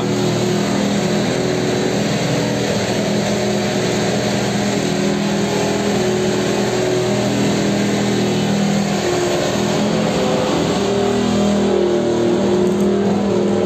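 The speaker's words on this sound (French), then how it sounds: "Pas que des voitures de sport, c'est une Simca 1200S." A Simca 1200S car engine runs loudly and steadily at Magny-Cours circuit, revving up and down amid other engine noise, close and continuous with no voices.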